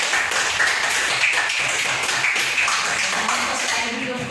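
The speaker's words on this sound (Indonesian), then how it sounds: "Tepuk tangan dulu, hari ini kayak semangat." A class of children claps hands together in a dense, continuous patter at a steady level for several seconds, with voices mixed in.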